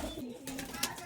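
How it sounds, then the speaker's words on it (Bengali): Pigeons cooing inside a loft of Malbai and Kaldumma pigeons, a few soft coos over a faint background with voices. "তো এই হলো পায়রার লফট, আর পায়রা অনেক আছে"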